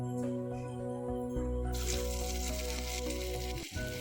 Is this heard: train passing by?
no